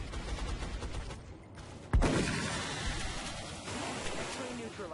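A single sharp gunshot fired by a soldier in XCOM cracks out mid-clip over a steady rain-like hiss, trailing into a softer rumbling tail.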